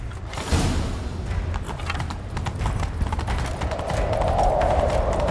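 Galloping horse hooves pound in a fast, steady rhythm in a medieval video game, close and continuous over a low rumble, with a faint whinny late in the run.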